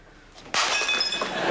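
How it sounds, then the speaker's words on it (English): Cups smashing on a hard surface in an indoor domestic scene: a sudden sharp crash of breaking crockery, followed by a bright scatter of shattering and tinkling fragments. "Smashing cups won't solve anything."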